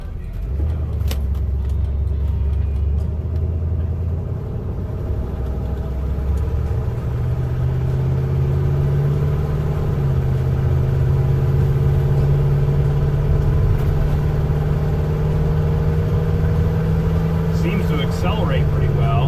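Vehicle with a 454 engine, freshly fitted with new plugs and wires, pulls away on a test drive; the engine note climbs steadily as it accelerates through gears, loud and close inside the cab.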